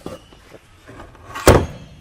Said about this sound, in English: that's one door closed